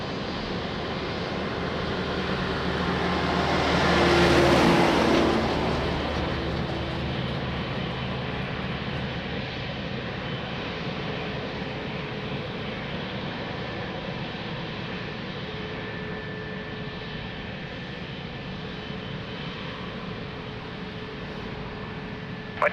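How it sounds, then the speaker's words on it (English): An airliner landing and rolling out at Lisbon Airport makes a broad engine roar that peaks early, then eases into a long, steady rumble as it rolls away, with no voices over it. "Nice butter landing."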